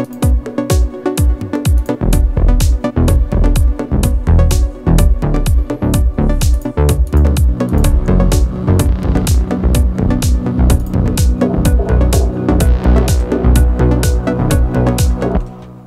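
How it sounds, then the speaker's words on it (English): A bright plucked synth, a trance pluck played on the Diva synth, plays a fast, driving pattern, short notes repeating in steady rhythm over a full, loud mix with bass. "kind of a trance pluck."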